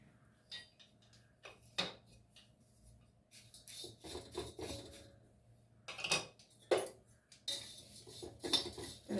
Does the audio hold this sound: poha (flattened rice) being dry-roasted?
yes